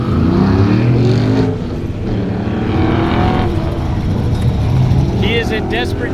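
A pro touring truck with a failing clutch runs an autocross course, its engine droning loud and close. The revs rise and fall steadily as it works through the course.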